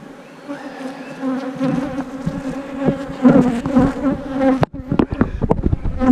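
Dense, steady buzzing of a honeybee swarm fills the air as two-frame mating nucs are loaded, loud and close throughout, with sharp handling knocks and bumps near the end.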